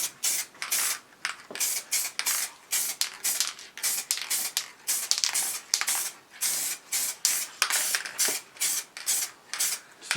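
Frost liquid wrap paint sprayed from an aerosol can onto a motorcycle project, a series of short, bright hissing bursts with brief gaps between them, close and fairly loud, with no talk.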